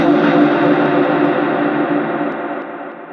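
A song plays, heavily processed with delay, compressor, reverb and auto-pan effects, giving a dense, washed-out wall of sound that slowly fades and trails off into reverb.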